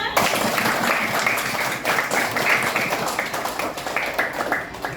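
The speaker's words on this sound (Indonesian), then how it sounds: "Beri tepuk tangan semuanya" Students clap together in a classroom after a teacher's lesson, a brisk burst of loud, close, dense clapping lasting the whole moment, with some voices mixed in.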